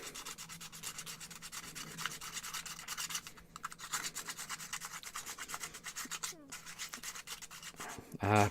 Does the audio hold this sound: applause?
no